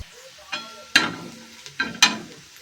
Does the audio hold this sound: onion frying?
yes